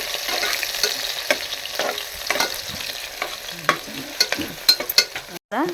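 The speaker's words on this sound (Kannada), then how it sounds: "ಚೆನ್ನಾಗಿ ಫ್ರೈ ಮಾಡ್ಕೋಬೇಕು" Chopped onion and green chillies frying in a pan for egg biryani, a steady close sizzle broken by frequent sharp scrapes and clicks of a spoon stirring, growing busier toward the end, with no talk.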